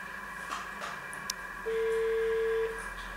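A telephone call connects with a single long, steady electronic ring tone of about a second, faint and clean over a quiet low hiss, preceded by a few small clicks.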